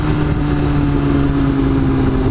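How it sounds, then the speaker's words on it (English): A Yamaha R6 sport motorcycle engine drones steadily while riding, picked up by a helmet-mounted mic with wind rush, a loud continuous hum with a slowly shifting pitch and no talking. "you might be able to hear less of me and more of the bike"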